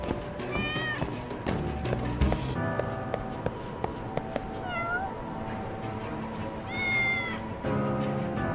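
A kitten meows repeatedly in the video game Lost Judgment, several rising cries over game music and light footsteps, moderately close.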